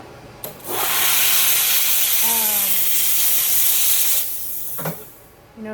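A steamer hisses steadily for several seconds as it steams an item, starting with a sharp burst and then tapering off, while brief voice sounds break through in the middle and near the end.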